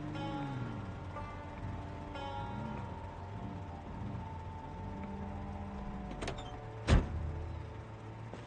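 A truck engine runs in the video game Project Zomboid, a steady droning hum with shifting tones that stays even throughout. A sharp, loud knock breaks in near the end.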